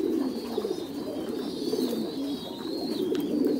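Soft, continuous pigeon cooing, several birds murmuring together at close range in a steady, low, rolling chorus with no voices.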